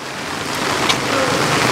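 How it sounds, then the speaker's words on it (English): Rain falls on a street in a steady, even hiss, heard close and moderately loud, with a faint brief tone partway through and no talking. "it started raining"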